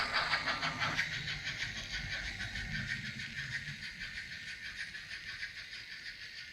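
GWR OO gauge model locomotive running on track, a steady close whirring mechanism hum with a rhythmic ticking pulse throughout.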